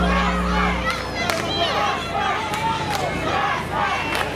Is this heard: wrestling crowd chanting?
yes